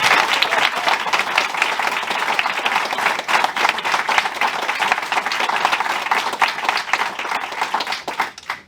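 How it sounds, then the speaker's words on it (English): Warm audience applause at Kennys Bookshop before a literary conversation: sustained, loud, dense clapping from a sizeable crowd, steady throughout and tapering off in the final moment. "So maybe we would start with a warm round of applause for the Kenny."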